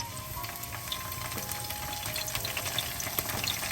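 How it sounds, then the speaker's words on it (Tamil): Mustard seeds and curry leaves sizzle and crackle in hot ghee and sunflower oil for rava upma, a steady close frying hiss with scattered small pops throughout and no talking. "கொஞ்சம் கடுகு சேர்ப்பேன். அதோட கருவேப்பிலை சேர்ப்பேன்."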